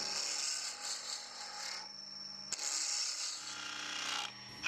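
A 3/4 inch roughing out gouge cutting lignum vitae spinning on a lathe, a steady close hissing scrape with a sharp catch midway and the whine of the machine running underneath.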